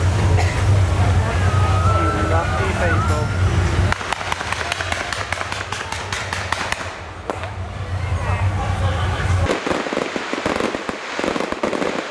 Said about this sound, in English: Oh, we got fireworks.